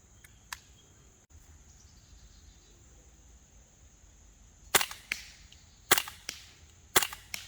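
A Sig Sauer MCX Rattler rifle fires at a target 28 yards away. After a quiet stretch with faint insect chirps, a few sharp, loud cracks ring out at irregular intervals, each with a short echoing tail.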